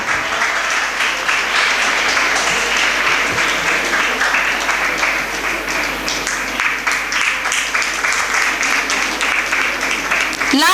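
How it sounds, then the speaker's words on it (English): Audience applause for graduates of a women's college graduation ceremony, a dense, steady wash of clapping from a large crowd that continues loudly throughout without a break. "Let's give a thunderous applause to the graduates of Computer Application 2023-24."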